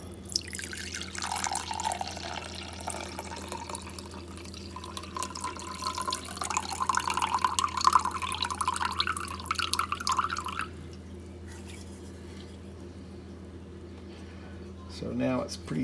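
Rose hip dye liquid pours and splashes steadily into a sink for about ten seconds, then stops, leaving quiet room tone and a brief clatter at the end.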